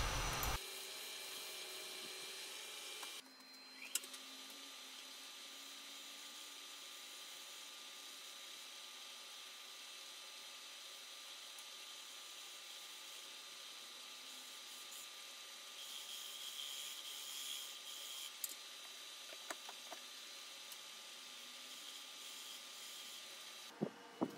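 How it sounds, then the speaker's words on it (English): A negative rake scraper works across a turned wooden platter on the lathe, giving a steady, continuous scraping hiss with a constant motor whine underneath, punctuated by a few brief ticks and knocks, with no talking. "then I'm just using a negative rake scraper to get rid of any little lines or grooves"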